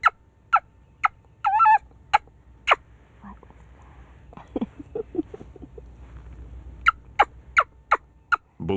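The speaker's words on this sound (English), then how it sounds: "Listen to that bird gobbling." A wild turkey gobbles in sharp rapid bursts answering a call, fairly near and clear, with a few short spoken words and soft rustling between the gobbles.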